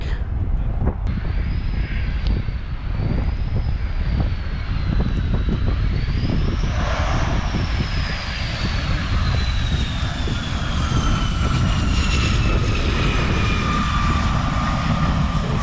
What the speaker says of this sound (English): Soft field landing.